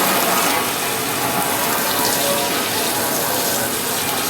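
A spray hose blasts water across a Comco press during cleanup, a steady dense hiss and splatter that runs unbroken and loud from start to finish with no talking.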